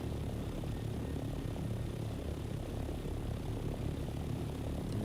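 A video game aircraft engine climbs to gain altitude, giving a steady droning propeller-like roar that holds at an even level throughout, with no talk.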